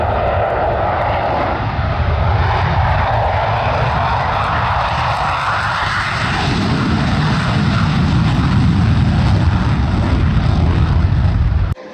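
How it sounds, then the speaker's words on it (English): The cooling fan of a Lincoln 200M 4-in-1 welder runs with a loud, steady broadband whoosh heard close up, holding constant before cutting off abruptly at the end. "I had quite a few questions about the fan noise."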